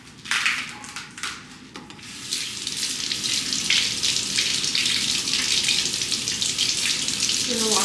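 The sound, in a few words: washing celery under running tap water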